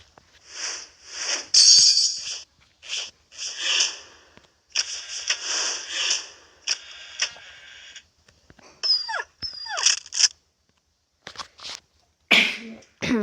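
A dog in the zombie video game Into the Dead gives short barking and whimpering bursts mixed with game effects and clinks, in uneven bursts with pauses and a sharp loud burst near the end.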